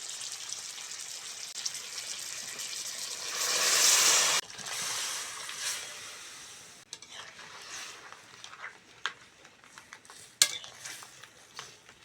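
Crab curry with boiled yam sizzles in hot oil as a spoon stirs and scrapes the pan, with a louder burst of frying around the middle and scattered clinks and scrapes toward the end; no talking.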